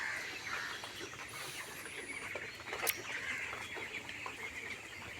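Ross 308 broiler chicks, 22 days old, fill a poultry shed with a dense, continuous chatter of peeping and clucking from many birds, steady and fairly loud throughout, with no talking.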